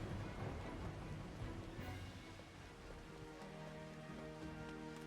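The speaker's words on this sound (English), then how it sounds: "The rain is what is annoying to me." Rain falls steadily in the Final Fantasy XIV video game, a continuous patter on surfaces with faint tonal game music beneath it and no talk.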